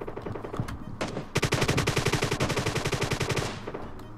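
Automatic gunfire rattles in the mobile game PUBG Mobile: a few separate shots, then a long rapid burst of evenly spaced loud cracks lasting about two seconds, close and dominant.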